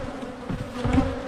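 Honey bees buzz steadily and close during a hive removal, a dense droning swarm with a few louder passes near the end.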